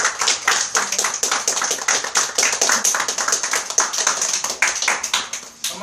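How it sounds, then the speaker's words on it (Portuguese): A church congregation claps together for Jesus at the pastor's request, a dense, continuous burst of close hand claps that runs throughout without speech. "dá uma salva de palmas para Jesus"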